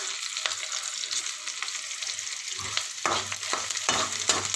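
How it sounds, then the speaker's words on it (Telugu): Onions frying in a pan with ginger garlic paste and rock salt, a steady sizzle broken by stirring scrapes that grow louder and more frequent toward the end, no talking. "ఇలా వేగుతున్నప్పుడు కొంచెం అల్లం వెల్లుల్లి పేస్టు బాగా వేపుకోవాలండి."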